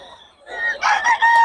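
A rooster crows once, fairly close and clear, at a poultry market in Bocaue, with faint background noise.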